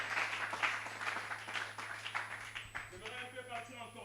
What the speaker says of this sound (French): Applaudissons un peu le Seigneur